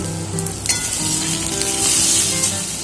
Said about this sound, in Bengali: এখানে আলু ভাজাটা এখন করছি